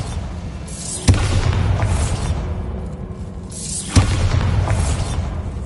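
Two sharp blasting explosions from the Bombarda spell in the Hogwarts Legacy video game, spaced about three seconds apart, each a loud boom over a steady rumbling background.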